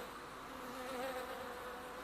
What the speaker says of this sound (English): Hear the bees? You hear them?